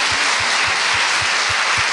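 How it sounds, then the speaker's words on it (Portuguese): A church congregation applauds at an anniversary service, a steady loud wash of clapping with a faint low rhythmic thump beneath it and no talk. "Vamos aplaudir esse povo aí."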